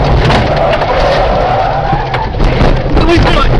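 A car on a Russian road brakes hard and skids, a loud sustained tire squeal over heavy road rumble, with a voice shouting over it.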